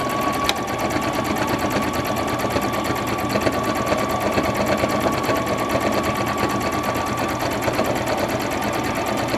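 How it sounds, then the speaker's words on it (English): A sewing machine runs a continuous zigzag stitch around the edge of a cloth unpaper towel, a loud, close, steady mechanical whir with fast rhythmic needle ticking and no pauses. "switch your machine over to a zigzag and we're gonna just go all the way around"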